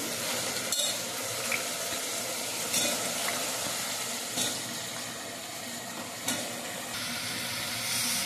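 Eggplant pieces dropped into hot oil sizzle in a steady, close hiss, with a few sharp stirring clatters and bumps along the way.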